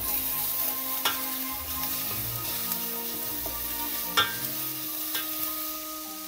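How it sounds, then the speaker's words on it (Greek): Peppers sauté in a pan for a mushroom risotto, a steady close sizzle with occasional sharp crackles and soft stirring scrapes, no talking. "Αφήνουμε και τις πιπεριές να τσιγαριστούν."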